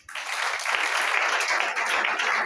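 A church congregation applauding itself, a sudden burst of many hands clapping that swells in quickly and holds steady and dense to the end.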